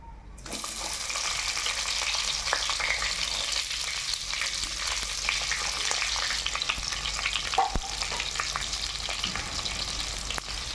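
Sliced onions and cumin seeds sizzle steadily in hot oil, a dense continuous fry with a few faint clinks, close and fairly loud, with no talking.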